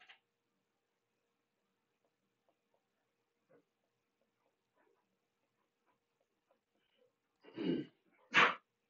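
Two sneezes burst out one after the other near the end, loud and close after a long quiet stretch broken only by faint small noises.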